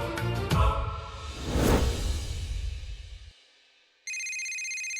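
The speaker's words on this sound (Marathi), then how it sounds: "फोन घे ना." A phone ringtone rings loudly in a Marathi TV drama scene, opening with a whooshing swell before a steady, bright electronic ring tone starts near the end, with no talking over it.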